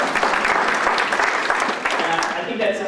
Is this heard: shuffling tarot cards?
no